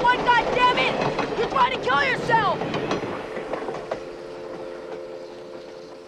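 A train rolling past on the tracks in a film scene, a loud rumbling rush and clatter with shouting voices over it, then the roar fading as a steady tonal hum lingers.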